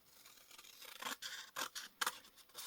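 Scissors cut paper for a handmade book, giving several crisp, close snips at a steady pace with soft rustling between them and no talk.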